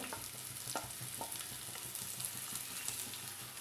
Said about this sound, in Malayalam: ഇതിലോട്ട് ഒരു വലിയ സൈസ് ഉള്ളി നീളത്തിൽ കട്ട് ചെയ്തത് ഇട്ട് കൊടുക്കണം